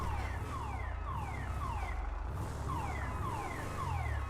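A car alarm goes off in a GTA roleplay video game, a steady cycle of repeated rising electronic whoops heard at a distance over a constant low rumble, with no talk.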